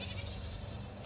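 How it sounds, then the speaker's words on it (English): A goat bleats once in a short, wavering cry outdoors near woods, fairly close and set against low background noise. "There's a goat."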